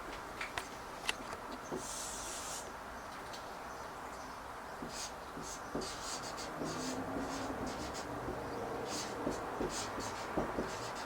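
Sufficient conditions for a two-variable function are written out by hand in a run of quiet scratching and tapping strokes, close and faint, with no talk.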